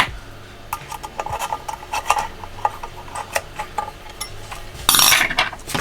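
Small metal clicks and clinks as a pommel is screwed back onto a metal Ahsoka Tano lightsaber prop hilt from a DIY empty hilt kit, a scattered series of close, light ticks with one louder scrape near the end.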